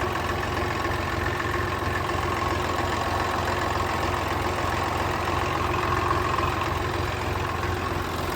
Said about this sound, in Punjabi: ਆਵਾਜ਼ ਬਹੁਤ ਸੋਹਣੀ ਆ ਬਾਈ ਟਰੈਕਟਰ ਦੀ